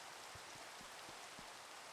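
Rain falling at night in modded Minecraft, a soft, steady hiss of rainfall with occasional low drip-like taps, faint and continuous with no voices.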